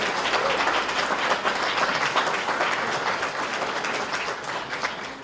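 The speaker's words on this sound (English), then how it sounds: "How about a round of applause for Monk and John" An audience at a Hall of Fame celebration applauds keyboardist and guitarist Monk and John, with dense, sustained clapping that holds at a steady level.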